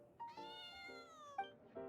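Plaintive meowing from a cat character in the game Genshin Impact: several strained, whining calls in a row, clear and close, with no talking over them.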